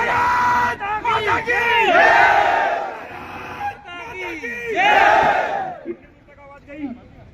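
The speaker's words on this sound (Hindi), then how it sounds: "आपकी भारत माता की जय की आवाज निकलनी चाहिए" A large crowd at a Madhya Pradesh DJ sound association convention in Bhopal shouts "Bharat Mata ki Jai" in unison, loud and reverberant, in repeated call-and-response bursts with a lead voice between them.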